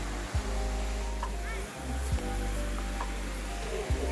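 The Cachoeira de Deus waterfall in Penedo, Rio de Janeiro, gives off a constant broad rushing roar close by. Occasional low thumps and faint voices sit beneath the steady water noise.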